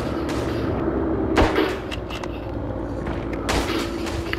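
Gunfire in the WWI shooter Verdun, with a sharp loud shot at about a second and a half and another burst near the end over constant battlefield noise, with scattered fainter shots.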